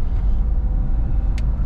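Ford Escape FWD with a 3.0 engine driving around a residential neighborhood, a steady low in-cabin road rumble and engine drone with a brief higher hiss near the end.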